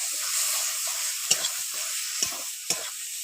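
Dal sizzling as it fries in a hot pan, stirred with a few sharp scraping strokes breaking through the steady frying hiss.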